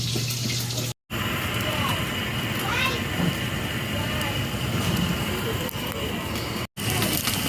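Water runs steadily into a cooking pot for fish seasoned with ginger, a loud continuous splashing and gushing pour that fills nearly the whole stretch, broken by two very short gaps.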